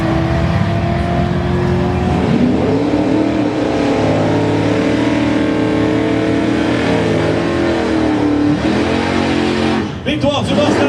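A Mustang Cobra drag racer makes its run, the engine roaring loud and close with rising, shifting revs, while a voice talks over it throughout and the noise breaks off abruptly near the end.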